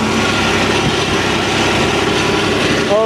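A 1086 tractor engine runs steadily and loud throughout while raking hay on a hillside, a continuous close droning rumble with no talk.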